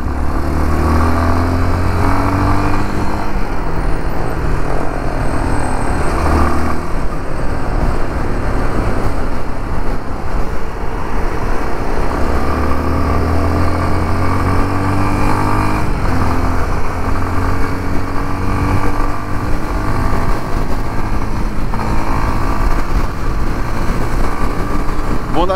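A 2023 Yamaha Lander 250 motorcycle engine runs steadily and loud throughout, with throttle blips rising and falling near the microphone while someone talks over it.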